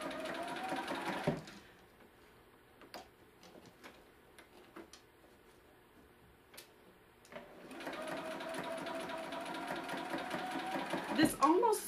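Sewing machine stitching frills into fabric tucks, its motor whirring steadily at the start and end with a quieter stretch of ticks and clicks between, while someone talks over it.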